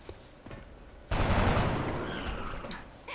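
A single loud gunshot in XCOM Long War cracks out about a second in, its burst decaying into a long reverberant tail over quiet game ambience.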